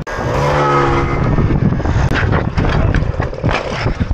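A moped engine revs hard during a wheelie, a loud buzzing whine that holds, drops off and surges again in uneven bursts, close by.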